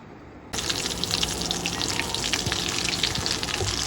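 Potato cheese balls deep-frying in hot oil give a dense, bubbling sizzle that starts abruptly after a quiet moment, then holds steady and close with fine popping crackles throughout.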